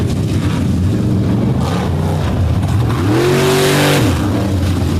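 Monster truck engines revving and roaring during a qualifying run at a Bloomsburg fair competition, loud and continuous with rising and falling pitch sweeps as the throttle opens and eases, one engine climbing sharply near the end.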